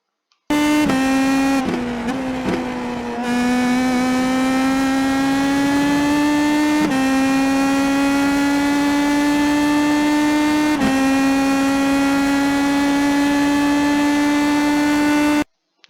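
An IndyPro2000 open-wheel race car in iRacing at Zandvoort, its engine screaming loud and continuous, the pitch rising through the gears with a few sharp drops at the shifts.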